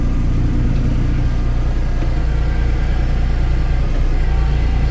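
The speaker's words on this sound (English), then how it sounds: "I'll get back in the tractor now." A Kubota L3560 tractor engine idles close by, a loud, steady low rumble with an even mechanical pulse that holds unchanged throughout, with no voices.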